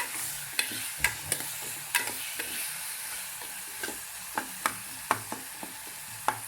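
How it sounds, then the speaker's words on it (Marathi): An onion, chili and garlic masala for Malvani prawn curry fries in oil with a soft, steady sizzle, broken by sharp clinks and scrapes of a spoon stirring the pan. "कांद्याबरोबर आपलं मिरची, लसूण याचं पण वाटण चांगलं हे होतं, भाजून तेलामध्ये चांगलं फ्राय होतं"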